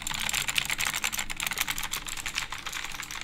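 Rapid, steady typing on a New Skill Hansi Spectrum gaming keyboard, a dense run of close, crisp key clicks with no pauses or talk.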